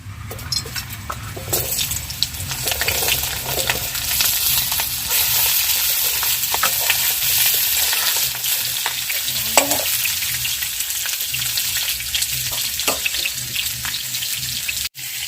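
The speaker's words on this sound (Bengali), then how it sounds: "এদিকে কড়ার তেল গরম হয়ে গেছে, তেলের মধ্যে দিয়ে দেবো কেটে রাখা পটলের টুকরোগুলো।" Pointed gourd pieces fry in hot oil in a wok, a steady dense sizzle with occasional stirring clinks and scrapes, loud and continuous throughout.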